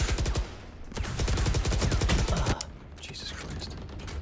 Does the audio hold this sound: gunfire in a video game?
yes